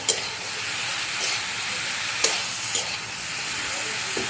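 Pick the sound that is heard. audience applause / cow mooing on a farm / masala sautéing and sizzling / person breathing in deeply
masala sautéing and sizzling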